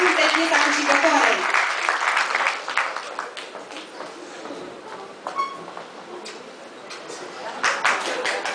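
A festival crowd applauds a singer at the 2010 Gaudeamus student festival in Brașov, with loud, full clapping at first that eases to a lighter, scattered patter, while voices murmur underneath.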